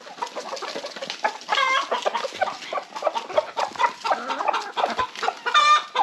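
Several chickens cluck close by as they gather to peck at coconut, with bursts of busy fowl calls and a few louder squawks scattered through the stretch.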